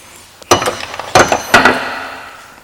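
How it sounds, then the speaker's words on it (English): Three sharp metallic blows of a blocking hammer on sheet steel during low-crown metal shaping, evenly spaced and close, each ringing briefly before fading, with light tapping between. "I do my heavy blocking with this hammer."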